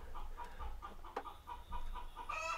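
One backyard chicken clucking in an even series of soft, repeated notes, faint in the background early in the morning, with no other sounds over it.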